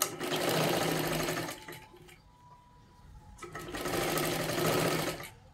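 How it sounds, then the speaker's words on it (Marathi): A sewing machine double-stitches the sleeve seam of a three-piece princess blouse in two steady whirring runs, each about two seconds long, separated by a quiet pause. "आणि ह्याच्यावरती अजून एक आपल्याला डबल शिलाई मारून घ्यायची आहे."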